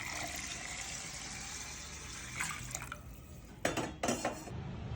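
Water pouring steadily into a bowl of soaked rice, followed by a couple of sharp clinks and splashes as the bowl is handled near the end.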